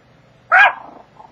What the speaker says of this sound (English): I gotta get these dogs put up